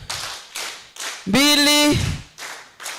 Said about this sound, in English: let us give them 3 good Nyayo claps.